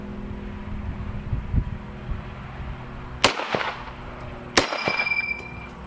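An M1 Garand rifle fires two sharp, loud shots outdoors about a second apart, each one a close crack with a brief echoing tail, over low background rumble.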